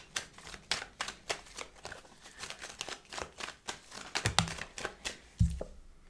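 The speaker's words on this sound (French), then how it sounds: "je vais faire le tirage maintenant avec l'oracle des miroirs" Oracle cards are shuffled and drawn by hand in a rapid run of close, crisp papery riffles and flicks, ending with a couple of soft thumps as cards are set down.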